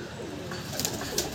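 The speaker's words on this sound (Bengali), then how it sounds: "টেডি পায়রা।" Teddy pigeons in a loft coo softly in low murmuring tones, faint and somewhat distant, with light clicks and wing or feather noise mixed in.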